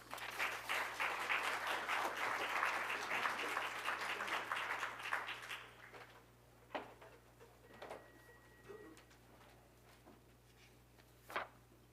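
An audience of listeners breaks into warm, dense applause to welcome a speaker to the podium. The clapping stays full for several seconds, then thins out and stops, leaving a quiet room with a few scattered knocks.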